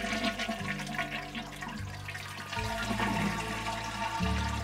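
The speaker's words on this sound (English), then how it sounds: "then you want to empty the tank of water" A toilet flushes as its tank is emptied with the water supply shut off, a steady rushing gurgle of draining water that swells and shifts in tone, close and fairly loud with no one speaking.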